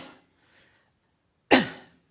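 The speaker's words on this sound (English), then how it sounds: "holding your epiglottis closed and trying to breathe out against it" A single sharp, cough-like burst of breath forced out against a closed epiglottis, forceful and close, following a faint earlier exhale and short silence.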